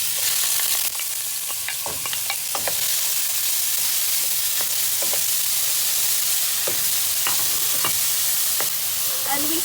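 Chopped onion is stirred into hot oil with whole spices for a mutton tikka masala, giving a steady close sizzle and frying hiss with scattered crackles and spoon scrapes, no talking.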